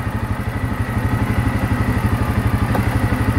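A motor runs close by with a fast, even, throbbing chug and clatter, holding a steady pace without a clear rise in revs.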